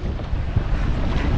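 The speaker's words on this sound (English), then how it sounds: "Wind real strong though." Strong wind buffets the microphone while kayaking at Pigeon Point, Tobago, a loud, continuous low roar with gusty rumbling and no voices.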